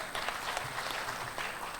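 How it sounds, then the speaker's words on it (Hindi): Audience applause welcoming Punjab politician Harpal Singh Cheema onto the stage at an interview event, a steady dense wash of clapping throughout, moderately loud and unbroken by talk. "तो सबसे पहले हरपाल सिंह चीमा जी का बहुत स्वागत तालियों के साथ इस मंच पर।"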